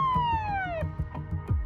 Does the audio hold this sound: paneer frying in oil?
no